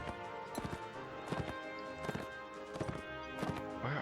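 Horse hooves clop at a steady walking pace in the video game Mount and Blade Warband, sharp repeated thuds at close range over a continuous low background, with no talking.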